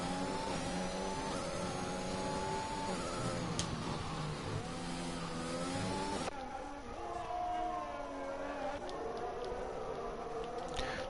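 Formula One race car engines in the F1 2021 game at the Chinese round, cars battling and overtaking: a steady high-revving whine with pitch shifts as the cars pass, continuous and fairly prominent.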